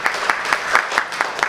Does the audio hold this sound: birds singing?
no